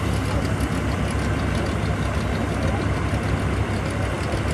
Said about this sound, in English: Take a look at that tractor.